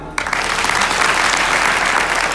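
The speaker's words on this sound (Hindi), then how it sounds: "जोर से बजाओ ताली।" Loud, dense applause from an audience at a Hindu religious discourse on the Shiv Maha Puran, bursting in abruptly after a brief moment and holding steady throughout.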